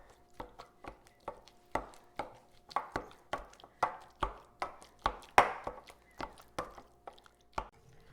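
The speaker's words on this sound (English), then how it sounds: "I'm just gonna chop this all together" A knife chops through ingredients for a deviled egg dip on a board, striking about fifteen crisp, close, irregularly spaced blows with no talking.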